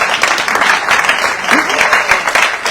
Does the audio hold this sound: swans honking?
no